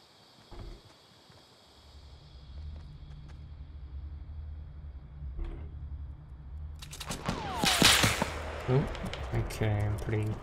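Gunshots in a Fortnite Battle Royale match while another player fires at a target: a low vehicle-like rumble builds, then a dense cluster of sharp cracks and crackling bursts arrives late, loud and close.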